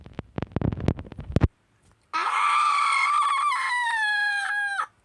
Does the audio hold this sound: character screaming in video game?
yes